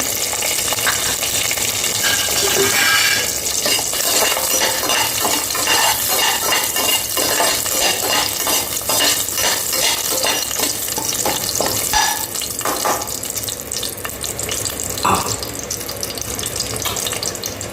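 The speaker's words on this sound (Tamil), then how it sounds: "பூண்டு லேசாக வதங்கினா போதும்" Garlic sautéing in a pan with bay leaf and cinnamon for mushroom biryani, a steady close sizzle with scraping stirs and utensil clinks throughout.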